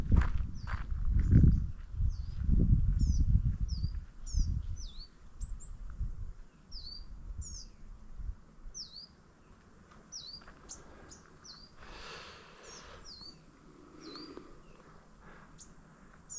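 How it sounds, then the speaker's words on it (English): Repeated high, thin chirps ring out from a bird singing at a moderate distance, over footsteps and rustling that fade into quieter outdoor ambience. "listen to those birds"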